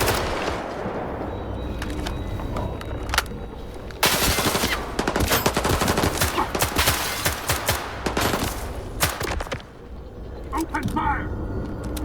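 Dense gunfire in the video game Stalker 2, loud bursts of rapid automatic shots and single cracks, nearly continuous for most of the stretch with a brief lull near the end, with voices shouting over it.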